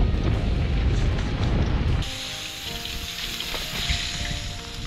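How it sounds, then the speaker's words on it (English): A patty drops into hot oil over an open fire, a loud rushing burst for about two seconds that settles into a steady crackling sizzle outdoors. "Add it right in the oil, just like that."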